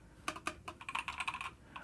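Typing on a Hyper 40 keyboard, heard up close: a quick run of crisp key clicks and clacks, a few spaced strokes and then a faster burst, fairly quiet with no talking.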